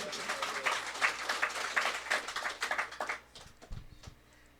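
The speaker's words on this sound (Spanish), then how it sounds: "Dale palmas a Jesús" A church congregation claps for Jesus, a dense burst of applause with rhythmic clapping that lasts about three seconds, then fades, leaving a few scattered sounds.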